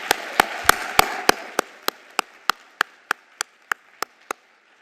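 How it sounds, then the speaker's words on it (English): An audience at a winter graduation commencement ceremony applauds the student speakers. The crowd's clapping fades within a couple of seconds, leaving one person clapping in a sharp, steady, evenly spaced rhythm. "Can we just give both of our student speakers one more round of applause?"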